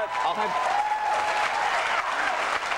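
A television talk-show studio audience claps, a steady wash of applause from a large crowd that holds fairly loud and even throughout, with faint voices mixed in.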